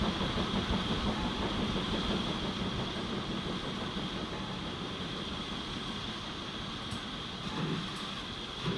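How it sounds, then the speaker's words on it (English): A freight train rolls through in the railway-building game Transport Fever 2, a steady rumbling drone with faint rhythmic rail clatter holding at a constant level throughout, heard alone without talk. "Just a freight train coming through."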